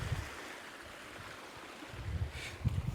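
Water rushing at a hidden waterfall on a muddy jungle trek in Andhra Pradesh, heard as a steady broadband wash with wind-like gusts that swell louder toward the end, no voices over it.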